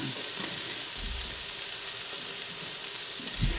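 Ginger frying in a splash of olive oil, a close, even sizzle with soft crackle and occasional low stirring bumps, no talking.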